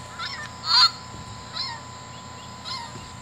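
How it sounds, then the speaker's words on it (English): Recorded nene, or Hawaiian goose, calls from a Wild Republic Audubon plush bird: a louder honk followed by two softer, evenly spaced calls, close and fairly quiet. "nene or Hawaiian goose,"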